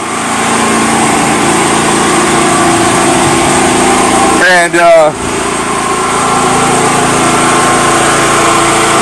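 A gas generator runs during a power outage with a constant high-pitched engine drone, close and loud, briefly interrupted by a short spoken word.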